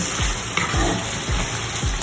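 Oil sizzles and crackles steadily in a pan while frying fish, with soft repeated scraping of stirring underneath; no voices.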